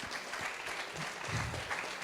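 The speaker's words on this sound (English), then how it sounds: "how about a round of applause for the Austrian Bull and James Stevens." An audience at a live fight event in New Zealand claps steadily, soft and somewhat distant, with scattered crowd noise.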